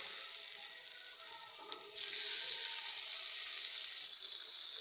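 Lake fish fries in a little oil on a hot dosa griddle, a steady close hiss of sizzling that holds throughout and swells slightly partway through.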